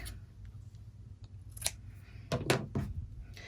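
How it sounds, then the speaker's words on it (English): Scissors trim excess fabric from a pineapple quilt block, with a few close, crisp snips clustered together over a quiet background. "then I can trim that excess off if I'd like"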